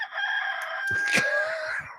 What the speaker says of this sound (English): rooster here's one